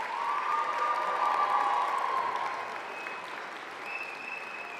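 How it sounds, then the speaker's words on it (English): A graduating class applauding at a university convocation ceremony, broad sustained clapping from a large crowd in a hall that slowly thins toward the end. "I invite the graduating class to reciprocate by applauding your family, friends, faculty, staff, indeed all those who helped you to achieve your success."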